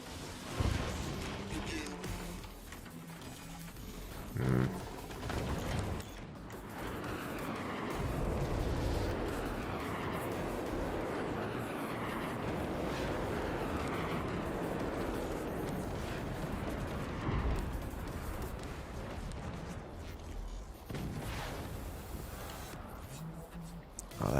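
Booming artillery fire from the real-time strategy game Forts, a dense, continuous barrage of rumbling blasts and impacts with brief lulls, heavy low-end thuds layered over sustained battle noise.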